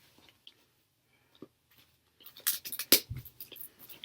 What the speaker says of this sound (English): so then you cut off a piece of tape